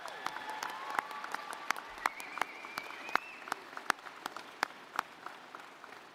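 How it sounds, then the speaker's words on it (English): A crowd at a middle school closing ceremony keeps clapping steadily, with a few loud individual claps popping out and a faint whistle-like tone drifting above the applause. "I want to keep that applause going for a little while longer."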